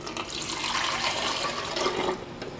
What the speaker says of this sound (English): Just pour it into the water tank